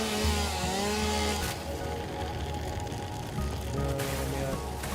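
Chainsaw in a video game, buzzing engine tones rising and dropping as the throttle revs, cutting out briefly midway then returning, loud and continuous over game sound.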